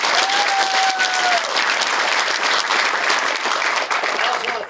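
An outdoor steak fry audience bursts into sustained, dense applause, loud and continuous for several seconds with a faint voice briefly heard near the start.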